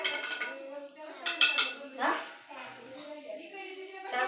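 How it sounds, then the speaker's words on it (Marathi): A bunch of keys jangles in several bright metallic bursts during a children's sound-guessing game, while an adult and someone speak briefly in between. "चावीचा आवाज आहे."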